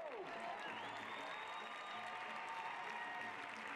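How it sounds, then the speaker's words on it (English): A large crowd at a high school track meet applauds and cheers continuously, a broad wash of clapping heard from a distance, steady throughout. "Stand up. Clap your hands. Stamp your feet."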